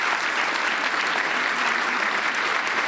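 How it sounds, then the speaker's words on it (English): A seminar audience gives a round of applause, dense and steady clapping from a large crowd that stays at an even, loud level throughout the short stretch. "Give them a round of applause."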